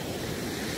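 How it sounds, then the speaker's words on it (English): Ocean surf rolls in at Stockton Beach as a steady broadband wash of waves, mixed with wind buffeting the microphone, with no voices. "there are waves happening right now"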